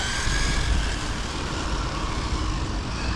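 A Traxxas Corvette 4TEC 3.0 RC car with a Velineon 3500 motor running on 12S drives with a steady, loud, high-pitched electric whine that holds nearly constant throughout.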